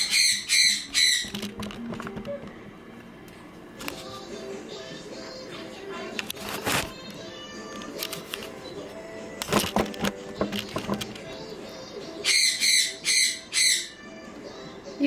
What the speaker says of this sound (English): You guys, ignore my bird.